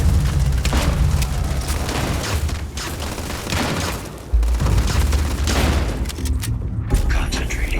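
Dense gunfire and booming blasts from a firefight in the space game Starfield, rapid bursts that are loud and close, with some mechanical clatter and low rumble underneath.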